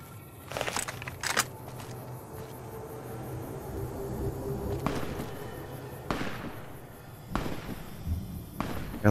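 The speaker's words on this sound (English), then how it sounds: "Have you decided to just start shooting?" Gunshots in Fallout: New Vegas: several separate sharp pops stand out over a low, steady background hum, each a short percussive crack spaced a second or more apart.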